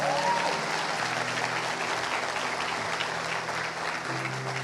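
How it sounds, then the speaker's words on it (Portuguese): A church congregation claps steadily during a sermon, a dense, even wash of applause that holds for several seconds with little change in loudness. "dê uma salva de palmas a Jesus"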